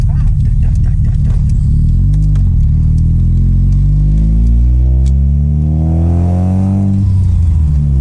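An Opel Kadett engine revs hard under acceleration, its pitch climbing steadily and loudly before dropping back, with people talking inside the car.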